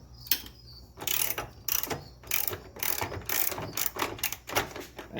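A ratchet wrench with an 8mm socket loosening a bolt during ABS pump removal on a Nissan 300ZX, giving close, fast bursts of ratcheting clicks in an uneven rhythm, alone without talk.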